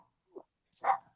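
A dog barks in the background during a podcast, two short barks about half a second apart, the second louder and longer, with no talking over them.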